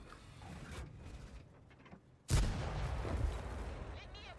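Tank cannon shot in a tank video game, one sharp loud blast cutting in midway after quieter game ambience and engine rumble, with a player talking.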